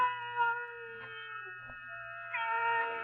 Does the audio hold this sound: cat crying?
yes